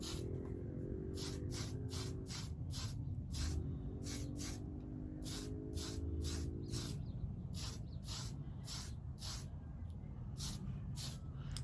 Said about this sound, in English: flip it, spray the other.